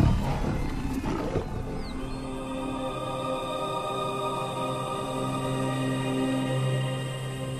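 Lions roar and growl close by while killing a giraffe, a loud continuous roaring that starts with a harsh burst and carries on steadily throughout with no talk.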